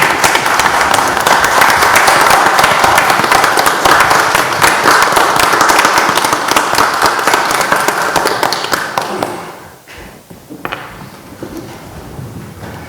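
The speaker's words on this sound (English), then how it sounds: "Let's give her a round of applause." An audience at a county board of commissioners meeting applauds for about nine seconds, dense and close, then fades to scattered claps and a few thuds.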